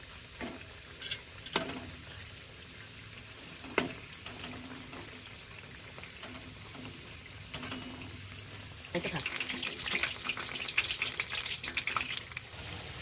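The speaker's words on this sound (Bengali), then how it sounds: "দেখুন আমার সবকটা কিন্তু মুড়ির চপ ভাজা হয়েছে" Puffed rice chops (murir chop) deep frying in a pan of hot oil, a soft steady sizzle with occasional clinks that swells into a louder, brighter crackle over the last few seconds.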